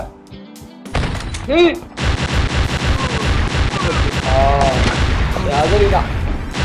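Rapid bursts of gunfire from the Killer Bean Unleashed video game, dense repeated shots, loud and sustained, mixed with game sounds and chirpy effects.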